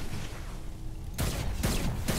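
Gunfire in the video game Saints Row: Gat out of Hell, a quiet lull followed by a sudden burst of loud, repeated blasts in quick succession.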